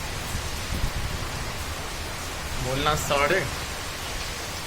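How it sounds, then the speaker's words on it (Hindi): Heavy rain pours in Haryana, India, as a steady, dense roaring hiss, with a voice briefly speaking over it partway through. "Usually बारिश होती है but इतनी जोर से नहीं होती है"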